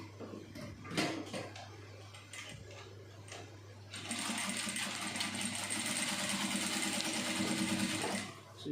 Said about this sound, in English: I'm just going to sew on each side.